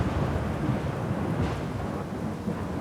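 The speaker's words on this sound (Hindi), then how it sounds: "ये तो बारिश होने लग गई।" A thunderstorm rolls in as rain begins, a steady broadband wash of falling rain with low rumbling thunder underneath, continuous and fairly close.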